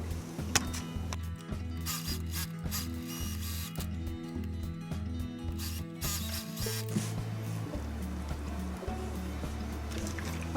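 A sewing machine stitches the top and bottom edges of a drawstring bag made from a remade obi, running in steady rapid bursts with short pauses and a mechanical whir throughout.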